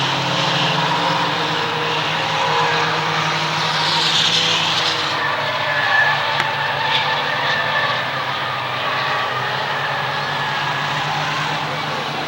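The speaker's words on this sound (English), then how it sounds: "All the cars racing for the checkered flag." Four-cylinder enduro race cars roar around the Waterford Speedbowl oval in a steady, loud, continuous engine drone that swells and fades slightly as the pack passes, with no talk over it.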